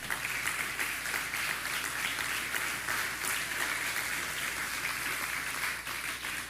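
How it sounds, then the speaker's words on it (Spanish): A church congregation applauding during a service, a dense, steady roar of many hands clapping together that holds evenly for several seconds without letting up. "dale un fuerte aplauso al Señor."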